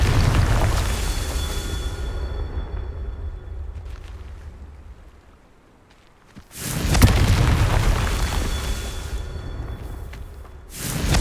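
The Confringo fire spell in Hogwarts Legacy goes off twice, each a loud booming explosion with a rushing whoosh that swells and slowly decays, separated by a brief near-silent gap.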